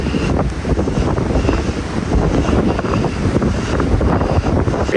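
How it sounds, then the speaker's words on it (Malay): Strong wind batters the microphone in a continuous, loud roar with gusty rumble, heard alone without voices. "kuat betul angin dia."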